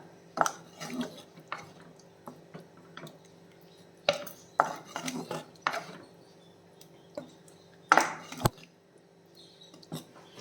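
A spoon scrapes and clinks in a pan as fish pieces are stirred into masala gravy for Kerala-style fish perattu, giving scattered, irregular knocks over a low hum.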